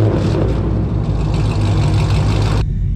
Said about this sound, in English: none other than my straight piped exhaust setup.